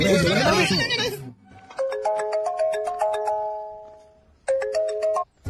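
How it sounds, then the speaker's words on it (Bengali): A mobile phone rings with an incoming call in a Tamil film dubbed into Bangla, its repeating electronic ringtone melody cycling twice at moderate loudness, with a brief pause between rounds, right after a stretch of speech at the start. "রামু দাদা ফোন করেছে"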